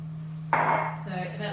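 Pearl barley, lentils and Italian soup mix pour into a cooking pot of lamb and tomato casserole, a sudden loud dry rattling rush that tapers into a light patter of grains settling over a steady low hum.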